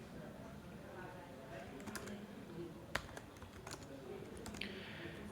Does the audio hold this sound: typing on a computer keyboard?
yes